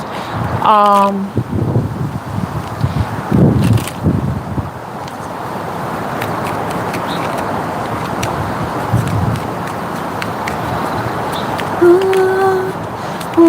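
Wind gusting outdoors straight into the microphone, a loud rumbling buffet that rises and falls in bursts, with someone talking over it.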